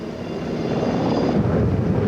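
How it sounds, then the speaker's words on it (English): Medevac helicopters flying casualties in from a wartime front line, a steady broadband rotor and engine roar that swells slightly louder partway through, with no voices over it. "medevac helicopters ferry in more casualties from the front line."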